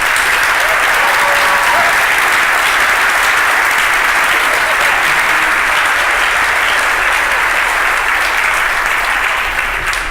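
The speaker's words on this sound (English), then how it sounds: "Please give them all a round of applause" Loud, sustained applause from a large conference audience at a documentation conference welcome session in Portland, dense and even clapping filling the room throughout.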